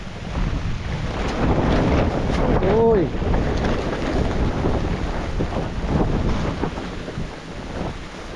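Wind gusts hard and steadily ahead of an approaching typhoon on a farm, a loud broadband rush that buffets the microphone throughout, while a brief voice calls out partway through.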